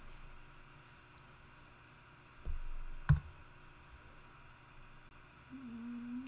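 A couple of sharp computer mouse clicks stand out against a quiet room hum while a hood is drafted in Clo 3D.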